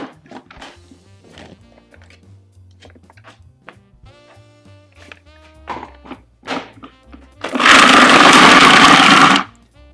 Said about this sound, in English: My food processor insisted it needs to be this way.